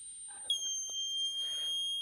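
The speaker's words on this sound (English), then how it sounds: "the buzzer starts to run and when it's lower than 25 it stops" An Arduino buzzer, triggered above 25 °C by a DHT11 sensor, sounds a steady high-pitched electronic tone continuously, thin and piercing, with faint clicks and rustles beneath.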